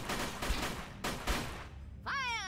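Squad combat in UFO: Afterlight, with a couple of distinct shot bursts at moderate distance, then a short warbling electronic tone at the end.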